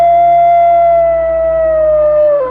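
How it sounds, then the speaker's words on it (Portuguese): A terrifying werewolf howl rises from a basement in a horror story, one loud, long sustained wail that holds a steady pitch and droops slightly at the end. "um uivo aterrorizante vazou do porão"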